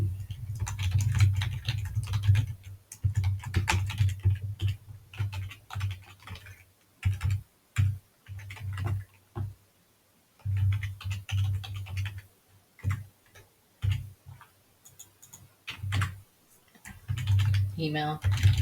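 Computer keyboard typing while lease tenant details are entered into an Excel spreadsheet for tracking rental payments, with irregular bursts of clicky keystrokes and short pauses, heard close under a low steady hum.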